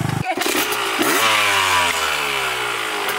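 A scooter's engine revs hard during a wheelie, a sharp rising whine that climbs steadily in pitch after a brief burst, loud and close.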